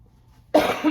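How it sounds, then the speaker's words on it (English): A single close, abrupt cough that breaks a near-silent moment, trailing into a short throaty rasp. "I still have a bit of a cough"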